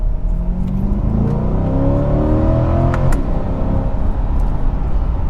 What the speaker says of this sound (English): Let me downshift here. Let me give it a little gas.